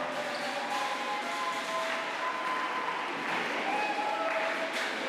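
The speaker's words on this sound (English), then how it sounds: "Let's give them a round of applause" A round of applause from the audience at an awards ceremony for the 2025 FSM Holiday Hoops basketball games, steady dense clapping that fills the hall for about five seconds at moderate level.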